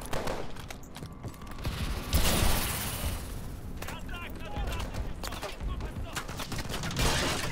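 Bursts of gunfire from the video game Call of Duty: Advanced Warfare crackle in repeated volleys amid game effects, fairly quiet overall, with voices talking over the shooting.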